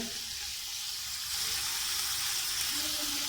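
Chicken biryani ingredients fry in a pan with a steady, bright sizzle that stays close and even throughout, with a faint clatter of stirring underneath.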